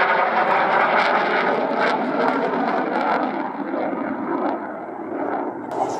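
A loud F-18 jet fighter roars past close by at an air show, a broad rushing noise that slowly lowers in pitch as the aircraft moves away.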